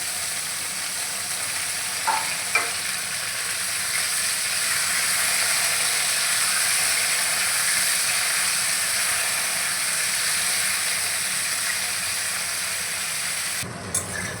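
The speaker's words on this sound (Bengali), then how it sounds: "উল্টে পাল্টে আমি পটলগুলো ভালো করে ভেজে নিয়েছি" Salted pointed gourd pieces fry in hot mustard oil in a wok, giving a steady, even sizzle and hiss that runs throughout with no talking.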